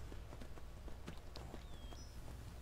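Horse hooves clop at a walking pace in the video game Skyrim, a faint, irregular series of soft thuds over a low background hum with a brief rising tone.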